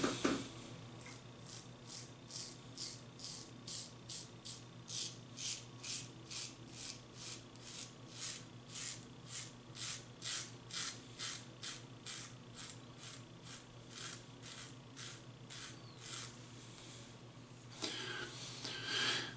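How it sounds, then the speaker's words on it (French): A traditional razor scrapes against the grain across thick stubble in repeated rasping strokes, steady and rhythmic at close range, each pass a short gritty rub followed by a brief pause. "c'est des rasoirs qui sont assez bruyants"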